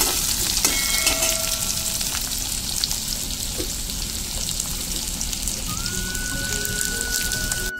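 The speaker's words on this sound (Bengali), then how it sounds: "দেখো কেটে রাখা আলুগুলো আমি লাল করে ভেজে নেবো" Cut potatoes fry in hot oil, a loud dense hiss and crackle that holds steady from start to finish, close up, with no talking.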